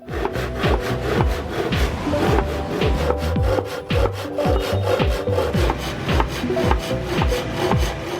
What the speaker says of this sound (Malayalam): ഇതിൻ്റെ ആ ഒരു മെയിൻ ബോർഡ് കട്ട് ചെയ്യുന്ന ആ ഒരു പ്രോസസ്സാണ് നിങ്ങളിപ്പോൾ കണ്ടുകൊണ്ടിരിക്കുന്നത്